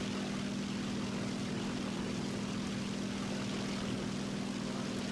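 Steady, continuous drone of the J6K1 propeller fighter's engine in War Thunder, a strong low hum with a constant tone, loud and unbroken, with no voices over it.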